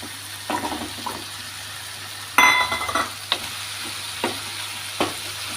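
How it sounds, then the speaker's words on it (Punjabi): Potatoes fry in a pan for Punjabi-style aloo gobi and get stirred, a steady sizzle broken by a few sharp scrapes and clatters of the spoon, with no talking. "ਇੱਕ ਮਿੰਟ ਅਸੀਂ ਇਹਨਾਂ ਨੂੰ ਹਿਲਾਵਾਂਗੇ ਆਲੂਆਂ ਨੂੰ"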